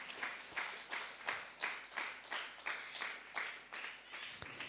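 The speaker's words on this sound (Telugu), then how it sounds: "చప్పట్లు కొట్టి దేవుని నామాన్ని కనపరుద్దామా?" A church congregation claps together to glorify God's name, a rhythmic series of about ten broad, even claps at a steady pace, filling the room at moderate loudness with no voices over them.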